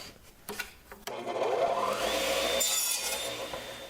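A saw cuts lengthwise through a wooden board to split it in two, a few short knocks first, then a sustained loud rising whine and rasp of the blade biting wood for nearly three seconds.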